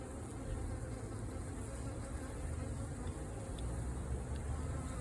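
A Carniolan honeybee colony, being requeened with a survivor queen, gives off a steady, faint low buzz that holds without pause throughout.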